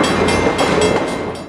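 An Amtrak passenger train rolls along street-running rails through Oakland's Jack London Square in 1983, a loud, close, continuous rumble with rhythmic wheel clatter.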